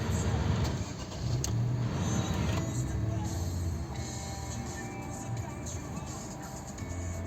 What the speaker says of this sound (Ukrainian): Тепер давайте заведемо, подивимось як працює наш двигун.